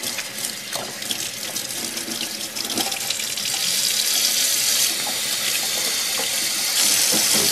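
A kitchen tap runs steadily while hands are rinsed under it, a close, continuous hiss of water that swells louder about halfway through, with no talking.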